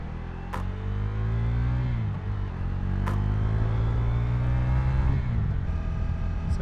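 A motorcycle engine drones steadily while riding, close and fairly loud, its pitch dipping and rising slightly with gear changes, with a couple of brief sharp clicks.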